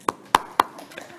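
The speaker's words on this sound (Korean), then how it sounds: "저와 함께 야고보서를 졸업하게 되신 여러분들께 축하의 박수를 드립니다" A few sharp, separate hand claps ring out in a church congregation after a sermon series ends, three crisp strikes close together, then softer scattered taps trailing off.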